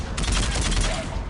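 Rapid automatic gunfire rattles in a burst of repeated shots during a firefight in Mass Effect 3, loud and close, with a voice calling out over it.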